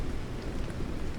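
Rain falls in a dense, steady patter in Pacific Drive, close and fairly loud with no voices over it.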